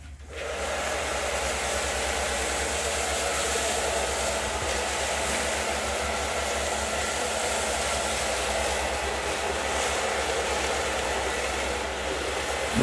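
A hair dryer blows hot air into a garbage-bag balloon, a steady loud whooshing roar with a low hum that runs unbroken from start to finish, with no talk.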